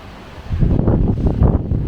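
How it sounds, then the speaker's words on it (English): Gusty wind buffeting a microphone at a parking area at Il Bosso in Abruzzo, Italy, a deep rumbling roar that swells and surges after a quieter start, with no voices. "it's quite windy"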